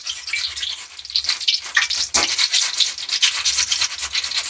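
Potato chips frying in hot oil give a steady, close, crackling sizzle with dense bubbling that runs on its own for several seconds, without voices.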